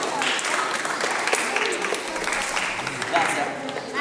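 A small gathering claps continuously through the stretch, a moderate, even patter of hands with a few sharper individual claps standing out.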